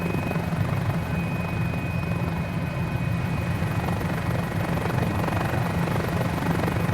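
A Mini 500 experimental light helicopter in Microsoft Flight Simulator 2020 drones loudly and continuously, its rotor hum steady throughout with a thin, high whine running on top.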